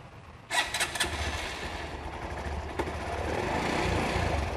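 A 125–200cc motorcycle, a used bike with about 54,000 km on it, starts up with a brief sputter and then settles into a quiet, smooth idle. The engine stays steady and close by, and no one speaks over it.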